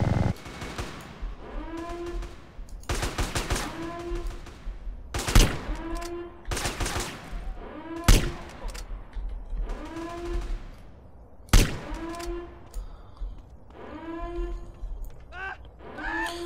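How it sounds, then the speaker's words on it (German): Minigun fire in GTA San Andreas: repeated rapid-fire bursts, loud and close, separated by short pauses across the stretch, with a voice speaking over the shooting. "Wir schießen uns eben mal so den Weg frei."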